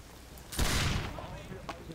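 A brief burst of rapid gunfire erupts mid-clip in a Saxton Hale video game match, a dense crackling volley lasting about half a second, followed by fainter shots and low background noise.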